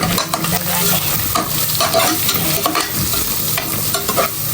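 Local chicken meat sizzles and fries steadily with coriander powder in a hot pan, with scraping stirring strokes and clatters breaking through the continuous crackle.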